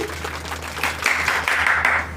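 Audience at a comedy event claps in a steady, dense wash of applause, fairly loud and close, rising in a few swells, with a low hum underneath.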